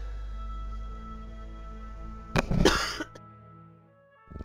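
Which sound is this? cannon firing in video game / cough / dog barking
cough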